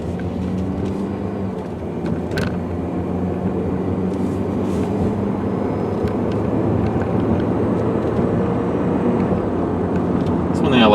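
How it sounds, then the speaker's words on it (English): A 2006 Saturn Ion 3 sedan cruising with a quiet, smooth engine, a steady low hum of drivetrain and road noise filling the cabin with a few faint clicks and rattles. "It's smooth, it's quiet. I mean, just a super nice running, very quiet, decent handling car."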